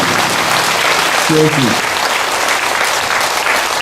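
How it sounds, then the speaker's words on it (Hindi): An audience at a Hindi spiritual talk applauds loudly and continuously for music, a dense wash of clapping throughout, with a brief spoken word partway through. "जोरदार से तालियां बजाएंगे हम संगीत के लिए"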